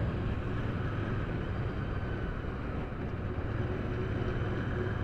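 Royal Enfield Interceptor 650 motorcycle cruising at about 70 on an open road, a steady low engine drone blended with rushing wind noise, constant and unbroken throughout.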